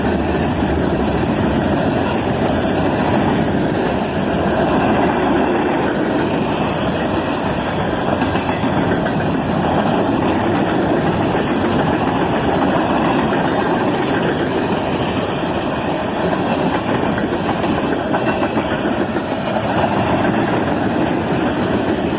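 A freight train hauling covered hoppers rolls past close by at night, a loud, steady rumble of wheels and wagons with faint clickety-clack throughout and no talking.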